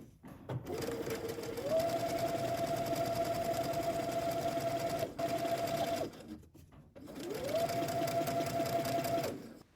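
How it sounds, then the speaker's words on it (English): A sewing machine runs in two long steady stitching passes with a brief pause between, sewing an elastic casing a half inch from the bottom edge of a dress, the motor whirring close and even. "we're going to stitch a 1/2 inch from the edge to create a casing"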